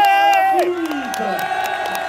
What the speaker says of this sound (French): toujours très applaudi et plus encore en ce 14 juillet